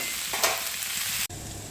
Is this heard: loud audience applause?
no